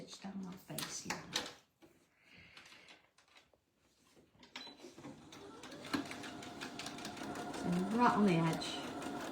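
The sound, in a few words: sewing machine top stitching a shirt facing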